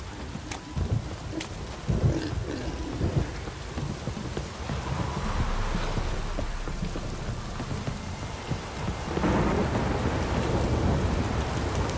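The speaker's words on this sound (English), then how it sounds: "This downpour's a bastard," Heavy rain pours steadily in a Witcher 3 Wild Hunt thunderstorm scene, with loud thunder cracks and rumbles rising out of the dense hiss, nearby and continuous throughout.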